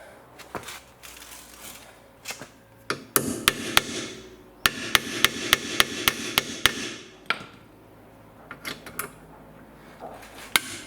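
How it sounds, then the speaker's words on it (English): Sharp metallic hammer blows ring out repeatedly on a Saab 9000 rear wheel bearing and ABS sensor, some in rapid bursts and others spaced apart, with clattering in between, close by. "All that hammering probably did the trick."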